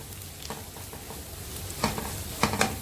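Masala with garam masala powder frying and being stirred in a pan for spicy chatti pathiri filling, a soft steady sizzle broken by a few sharper scraping stirs toward the end, close and moderately quiet with no talking.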